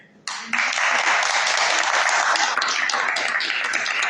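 A church congregation breaks into loud applause for Jesus Christ, starting abruptly after a brief quiet and holding as dense, steady clapping to the end.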